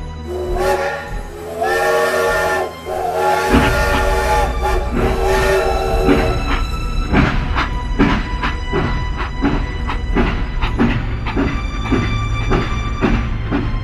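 A train departs as a sound effect in a Bengali horror audio drama: a horn or whistle sounds, then steady, rhythmic wheel clatter builds and continues loudly, with no voices.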